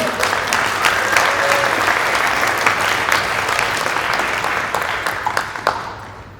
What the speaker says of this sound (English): Well, let's give a round of applause to the medal.